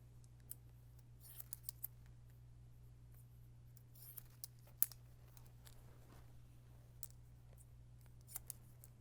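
A left-handed barber's scissors cutting hair, with soft, scattered snips and clicks, faint and close, over a low steady hum and no talking.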